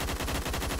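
Rapid automatic gunfire from the video game Phantom Forces, a dense continuous burst of shots with a steady rhythmic rattle filling the short moment.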